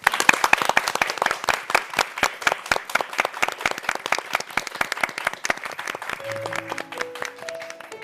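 Church members clap in steady unison rhythm, a sharp regular beat carried through the whole stretch, with sustained sung or instrumental tones entering near the end.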